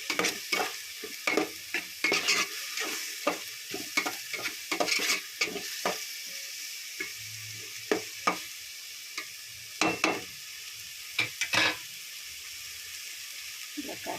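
Cabbage flower, green chillies and curry leaves fry in hot oil for a fish curry, with a steady sizzle broken by frequent scraping stirs of a spoon against the pan.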